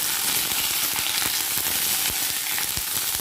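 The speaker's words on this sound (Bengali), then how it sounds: "তো এখন বেগুনগুলোকে ভেজে নেব বেগুনগুলোকে ভেজে আবার তুলে নেব" Eggplant pieces fry in hot cooking oil in a pan, giving a steady, close sizzle with frequent sharp pops and crackles running throughout, with no voices.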